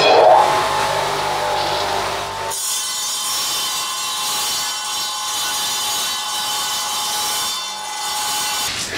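A tile cutter slices kitchen tiles at a 45-degree angle, first with a lower grinding tone, then a sustained, loud, bright cutting whine that holds steady for several seconds, close by with no talking.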